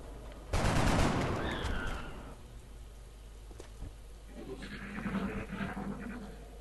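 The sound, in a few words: gunfire in XCOM video game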